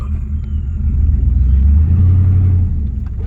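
A run-down marketplace car being driven to test whether it shifts through all its gears, its engine a steady low rumble that swells and fades a little, with no talk over it.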